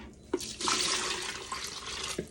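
Liquid soap-making solution pours steadily into a pitcher, a close, continuous splashing trickle for about two seconds with a few brighter drips and gurgles.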